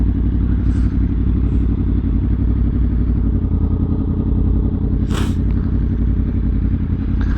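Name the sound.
motorcycle riding and braking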